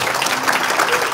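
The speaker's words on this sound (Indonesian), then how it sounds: "tepuk tangan untuk Tuhan" A church congregation breaks into steady, dense applause for God at the close of a sermon, a continuous wash of many hands clapping together without pause.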